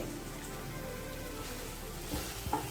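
Semolina for sweet potato shira roasts in a pan over a low flame, giving a soft, even sizzling hiss with a couple of brief scrapes near the end.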